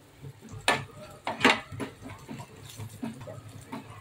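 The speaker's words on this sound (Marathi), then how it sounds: "हा मसाला आपण मंद आचेवर तेलामध्ये परतणार आहोत।" Special samosa spice masala being sautéed and stirred in oil in a pan over a low flame: irregular scraping and clinking strokes of a spoon against the pan, two sharper ones early, over a soft, steady low background rumble, with no talking.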